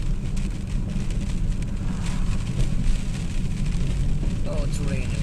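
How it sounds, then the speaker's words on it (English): Rain falls steadily on a car, a dense, continuous patter of drops over a low rumble inside the vehicle, loud and unbroken throughout. "Oh, it's raining again."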